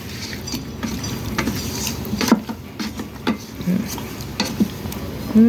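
Duck meat browning in a pan for a village-style duck bhuna with spices, stirred in irregular scraping strokes with soft sizzling and occasional utensil knocks, close and moderately loud.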